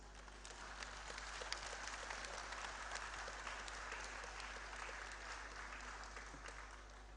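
An audience at a university convocation conferment ceremony claps steadily, a dense, even patter of many hands heard from a distance over a low hum.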